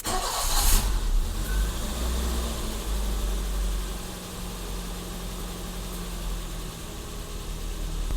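A BMW engine idles at about 900 to 1000 RPM in park after a brief starting burst, with a steady low drone throughout and a faint tick beneath it.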